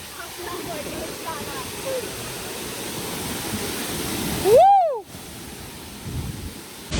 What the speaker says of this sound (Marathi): नुसता पाणी अंगावर येतं पाणी पडतं.